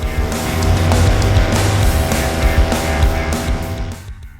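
A paramotor engine throttling up in flight to regain altitude, a loud steady motor roar with strong wind rush, close to the pilot.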